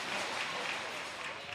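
A packed stand of Punisher fans cheers at a pickleball league match, a sustained roar of crowd noise and scattered applause that stays loud and steady throughout.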